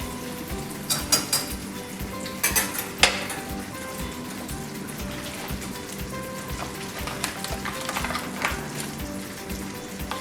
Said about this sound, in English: You want to whisk to break down the flour.